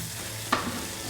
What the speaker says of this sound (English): We're just going to add our onions straight in. Let them cook with the chorizo, get that flavor in.